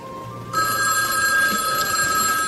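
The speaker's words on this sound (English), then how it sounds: "Mason, I have to get the phone." A telephone bell starts ringing abruptly after a half-second hush, a loud continuous metallic trill that carries on to the end.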